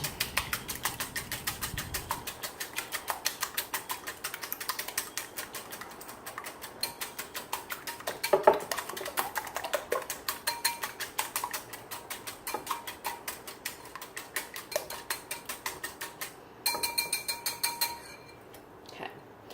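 Eggs beaten in a bowl for bread pudding, a fast, even clicking of a utensil against the bowl that runs steadily and close, pausing briefly near the end, with no talking.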